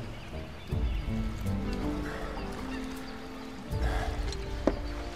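Chocobo birds in Final Fantasy 7 Rebirth give honking, goose-like calls over a steady game background, with louder bursts near the start and again toward the end.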